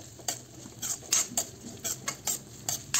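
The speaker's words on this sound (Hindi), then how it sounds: "प्याज को हमें ब्राउन होने तक भूनना है।" Chopped onion with turmeric paste sizzling in a pan for Rajasthani turmeric curry, a faint steady fry punctuated by a regular series of sharp clinks from a spoon scraping and stirring, with no voices.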